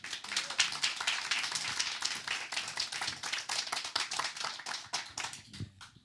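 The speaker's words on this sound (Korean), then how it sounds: "우리 강사 우리 장로님 나오실 때 뜨거운 감사의 박수로 우리 모시도록 하겠습니다" Warm, steady applause from an audience at a Thursday evening church gathering as a speaker, an elder and lawyer, comes forward; many hands clapping continuously and fairly evenly before tapering off at the end.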